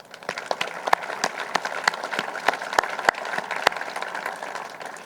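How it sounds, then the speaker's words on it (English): Scattered, fairly sparse clapping from a modest outdoor crowd at the grand opening ceremony of the Mercy Health Training Center, individual sharp claps standing out over a soft background. "I think FC Cincinnati ownership and management deserves a round of applause for that"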